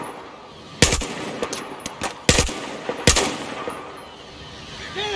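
Gunfire in the Battlefield 4 video game, several sharp loud shots spaced irregularly over steady background game ambience, with smaller distant pops between them.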